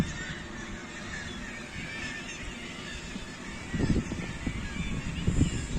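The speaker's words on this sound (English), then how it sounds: "Lovely to hear the birds." Wild birds call around rocky islands at sea, giving scattered honking cries over a constant rush of wind and water, growing a little louder and busier toward the end.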